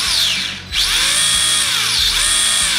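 A brushless motor in a restored Tamiya Hotshot RC car spins its axles at high speed, giving a loud, steady electric whine with rising and falling pitch sweeps and a brief dip near the start.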